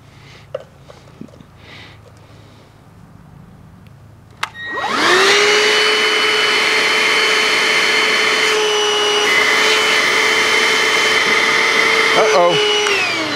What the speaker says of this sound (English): The big shop vac has a lot of, lot of vacuum pressure.